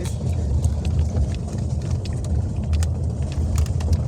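A car passes nearby on a road, its engine rumble steady and fairly loud under wind buffeting on the microphone, with small clicks and rustles around it.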